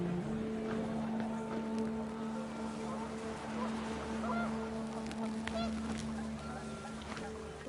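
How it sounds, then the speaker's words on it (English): Panicked geese honk in a burst inside the video game What Remains of Edith Finch, their calls rising over a steady low drone and gusting wind, with game music or ambience beneath and a voice talking over part of it. "The wind picked up, and panicked geese appeared and quickly went."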